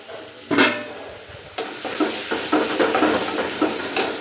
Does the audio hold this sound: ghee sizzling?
yes